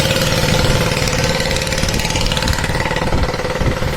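A motorbike engine runs close by on a trip through Gir forest, a loud, steady, throbbing idle with a rapid pulsing beat that holds unchanged throughout.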